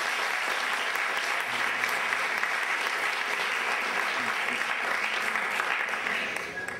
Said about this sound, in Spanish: Un fuerte aplauso para Mercedes.